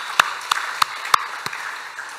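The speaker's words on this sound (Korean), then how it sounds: "하나님께 영광 박수 올리겠습니다." Church congregation clapping in praise during a service: about five sharp, evenly spaced claps that ring out clearly, then stop.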